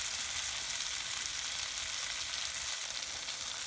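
Onions and vegetables sauté in an electric skillet with a steady, close frying sizzle and faint stirring, no voices.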